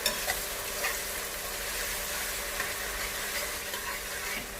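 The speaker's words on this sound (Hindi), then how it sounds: "अदरक लहसुन का पेस्ट ऐड करेंगे। थोड़ा सा भूनेंगे इसे।" Ginger garlic paste frying in a pan, a dense continuous hiss and sizzle with faint occasional stirring sounds, close and even throughout.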